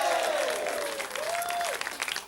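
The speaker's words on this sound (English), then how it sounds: "Big cheer." A television talk-show studio audience breaks into applause and cheering, a loud, dense burst of clapping with a whistle-like rising tone running through it, fading slightly toward the end.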